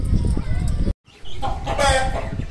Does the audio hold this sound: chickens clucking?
yes